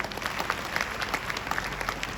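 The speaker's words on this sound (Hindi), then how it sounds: "आपके लिए एक बार जोरदार तालियां हो जाए।" An audience at a seminar on database building applauds in a hall, a steady wash of claps lasting a couple of seconds at moderate level, with no voices over it.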